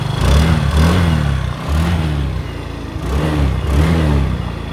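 A Yamaha Nouvo SX motorcycle on its stock exhaust is revved three times in a steady rhythm, each throttle blip rising from a smooth idle. The engine is close, loud and fairly mellow.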